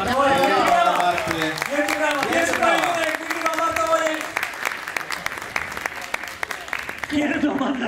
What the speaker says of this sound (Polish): Zróbcie jeszcze raz, wielkie brawa!